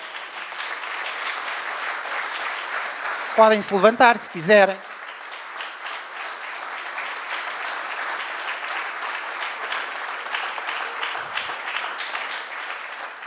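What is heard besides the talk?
audience applause for orchestra musicians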